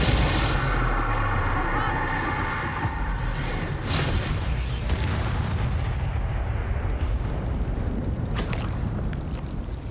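Spells cast in the Hogwarts Legacy video game: a dense, continuous rumble of booming blasts and crackling magical impacts, loud and sustained throughout with no talking.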